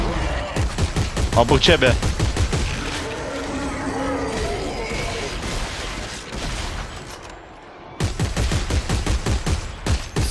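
Rapid bursts of automatic gunfire from the sci-fi shooter Dead Space 3 crackle in quick volleys, pause mid-clip under game noise and a brief shouted voice, then resume in a fresh rattling string.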